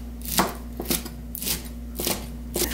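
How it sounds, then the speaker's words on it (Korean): A kitchen knife mincing drained blanched vegetables for kimchi dumplings on a cutting board, with about six crisp, loud chops in an uneven rhythm, no voices. "그래서 이걸 먼저 다지겠습니다. 잘게 잘라주시면 돼요."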